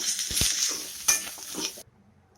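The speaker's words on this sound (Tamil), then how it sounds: "அந்த சூடுலேயே கொஞ்சம் சோம்பு, 2 பட்டை, கிராம்பு, ஒரு 4 கிராம்பு எல்லாம் போட்டு வறுத்துக்கணுங்க" Whole fennel seeds, cinnamon sticks and cloves roast in a hot pan for a mutton kulambu, giving a steady sizzle with stirring scrapes and a few utensil clinks that stop abruptly near the end.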